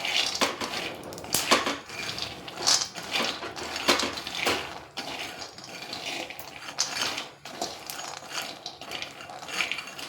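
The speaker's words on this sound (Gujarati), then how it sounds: "આ રીતનું મિક્સ કરતા જઈએ ને એટલે ફરતાય દાણા છે ને એકદમ સરસ રીતે શેકાઈ જાય" Peanuts are stirred and dry-roasted in a metal pan for Gujarati sing pak, giving steady scraping, clinking and rattling of the nuts and spoon in repeated strokes, up close and without talk.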